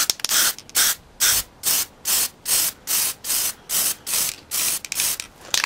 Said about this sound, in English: you just keep spraying and applying on the surface until you don't see any pits, holes